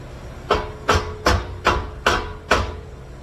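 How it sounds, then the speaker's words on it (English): A hammer tapping a custom-built base stand, six evenly spaced, sharp, close knocks about half a second apart, with no talk. "I'm going to use this fancy tool called a hammer"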